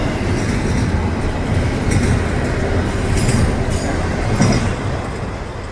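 A short northbound freight train rolling past: a steady, loud rumble of wheels on rail with faint clicking and occasional light squeals, continuous throughout with no voices.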